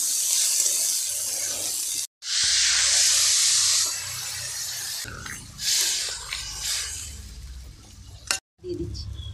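Cumin powder, sugar and chilli sizzle in a pan with a bright, steady hiss that cuts out sharply twice and returns, loud and close.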